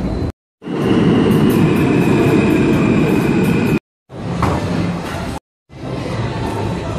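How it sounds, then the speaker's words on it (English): Subway train running underground, a loud steady broadband rumble and roar with a high whine, broken by brief silent cuts and resuming each time. "we're going down the subway."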